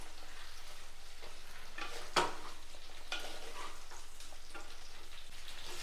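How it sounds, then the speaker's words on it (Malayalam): Ginger garlic paste sizzles and fries in a pan for a Kerala vegetarian curry with plantain and drumstick, a soft steady crackle with occasional scrapes and one sharp clink as it is stirred. "ഇനി ഇതിലേക്ക് ഇഞ്ചി വെളുത്തുള്ളി പേസ്റ്റ് ഇട്ട് കൊടുക്കാം. എല്ലാം കൂടെ ഒന്ന് ഇളക്കി കൊടുക്കണം."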